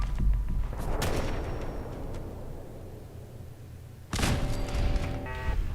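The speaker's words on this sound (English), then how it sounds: "Take out that machine gun turret up there." Machine gun turret fire in Fallout 4, heard as bursts of gunfire with a loud burst near the start and another sharp volley near the end, set over a steady game-ambience background.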